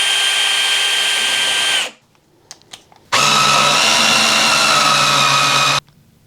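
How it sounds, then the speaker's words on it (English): A power drill bores a hole for a homemade mosquito trap, running loud and steady for about two seconds, pausing briefly with a few faint taps, then whirring again for nearly three seconds. "when I drill my second hole, it'll be nice and vertical"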